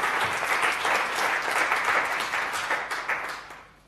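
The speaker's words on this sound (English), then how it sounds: "deserves a round of applause for making it to all six" An audience at a government data event bursts into applause, a loud, dense clapping that holds steady for several seconds before tapering off at the close.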